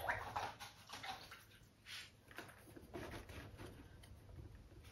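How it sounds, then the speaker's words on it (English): An acrylic paintbrush is swished and rinsed in a water container, giving faint, soft watery sloshing and dabbing sounds over several seconds with no talking. "now I'm going to wash my brush out"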